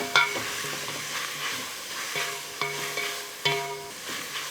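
Split chilies sizzle in hot oil in a pan for a Kerala dish, with a soft crackling hiss broken by repeated sharp scrapes and clinks of a utensil stirring against the metal.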